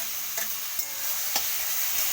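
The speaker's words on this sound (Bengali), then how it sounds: "এবার বেগুনটা দিয়ে দিলাম।" Eggplant frying in a pan with tomato for a Bengali bharta, an even close sizzle broken by a few quick scrapes of stirring.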